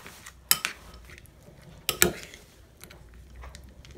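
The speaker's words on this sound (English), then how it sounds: "So I'll just stir it up a little bit." Dog food for a pit bull stirred in a bowl, two sharp clinking scrapes of a utensil against the dish with quieter rattles between, close and alone without talk.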